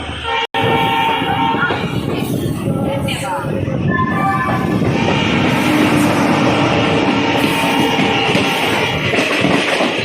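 The 12527 Ramnagar Chandigarh Superfast Express departs Yamunanagar Jagadhri railway station: a loud, close, continuous rumble of rolling wagons, with a sharp horn blast near the start and sustained tones as the train moves off.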